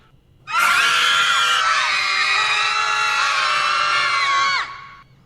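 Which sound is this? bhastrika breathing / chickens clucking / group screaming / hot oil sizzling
group screaming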